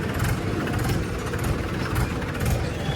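A tractor engine running steadily nearby, a low, rough mechanical rumble that stays even and continuous throughout without pauses.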